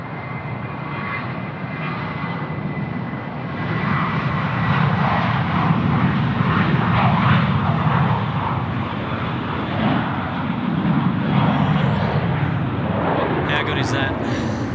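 A Jetstar airliner rolls for takeoff at Sydney Airport with a broad, rising engine roar that swells and holds, heard from a distance with people talking over it.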